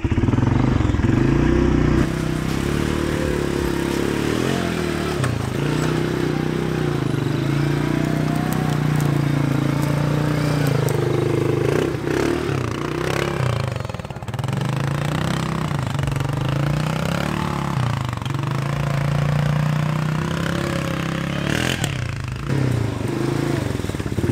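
Polaris Sportsman ATV crawling in low four-wheel drive through a brushy, log-strewn trail, its engine droning steadily and loud up close, with crackling brush and clatter mixed in and a voice talking at times.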